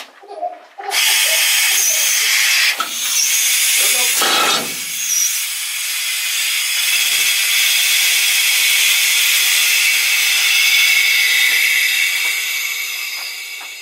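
A loud, continuous hissing roar of a pneumatic mining drill boring a six-foot hole in a mine near Cripple Creek, Colorado, starting abruptly after a brief quiet moment and running steadily with a few short bursts early on.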